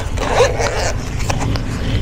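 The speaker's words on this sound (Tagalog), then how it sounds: "Tapos may zipper lang here." A zipper on a small travel pouch is pulled open, a close, rasping slide with a few quick ticks over steady low background rumble.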